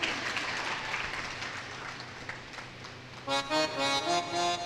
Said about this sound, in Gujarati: ડોક્ટર દંડી બાપુ માટે તમે તાળી પાડો ને યાર